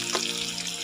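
Chopped onions hit a hot pan of frying greens stalks and potatoes for a Bengali rohu fish curry, giving a brief, steady close sizzle with no talking.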